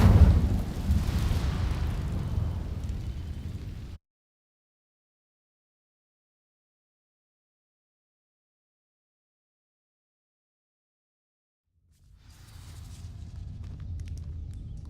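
Incendio fire spell igniting dry vines in Hogwarts Legacy: a loud roaring burst of flame that fades abruptly into silence, then a softer rumbling crackle returns near the end.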